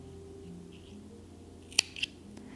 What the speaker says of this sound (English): You're going to actually go ahead and cut your yarn